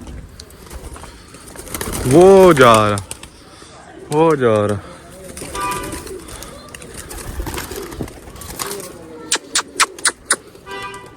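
Pigeons indoors, including a young bird, giving repeated throaty coos in bursts, with someone talking nearby and a few sharp clicks near the end.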